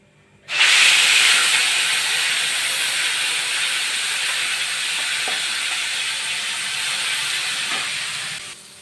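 Cumin and mustard seeds hit hot oil while tempering spices for a paneer curry, giving a loud, steady sizzling hiss that bursts in suddenly and holds for several seconds before cutting off.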